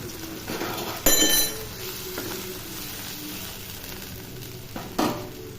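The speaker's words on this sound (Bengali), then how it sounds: "এখন মশলা কষানোর জন্য পেঁয়াজের মধ্যে পরিমাণ মতন পানি দিয়ে দেব।" Chopped onions fried in oil sizzle steadily in a pan as water is poured in, sending up two sharp, louder bursts of hissing that settle back into a constant crackle, close and clear with no talking.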